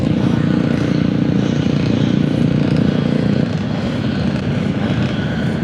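Racing motorcycles at a track roar off the start together in a loud, dense engine drone that swells and then thins slightly as the pack pulls away.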